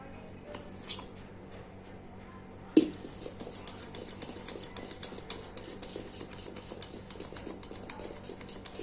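Spoon stirring cake batter with baking powder in a bowl for a homemade Black Forest cake, faint scraping and clinking, with a sharper knock near the start of the mixing.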